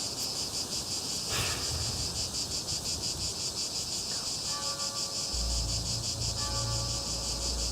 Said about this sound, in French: C'est quoi, des grillons? C'est assourdissant. J'arrive à peine à penser. Ce sont des cigales.